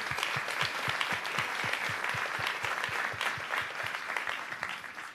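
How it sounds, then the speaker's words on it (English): Audience applause fills a Brooklyn town hall meeting, a dense, steady wash of many clapping hands with a few louder near claps keeping a rough beat throughout. "give them one more round of applause either way"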